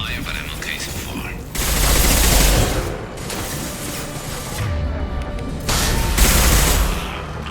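A Mass Effect 2 firefight with loud bursts of gunfire, automatic fire surging in waves with quieter gaps between them, set against a steady background of battle noise.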